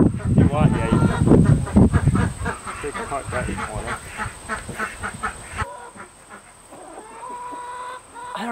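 A Silkie hen that had been raising Barred Rock chicks calls for her missing brood with loud, insistent clucking close to the microphone, while other fowl squawk and quack around her and the yard noise shifts partway through.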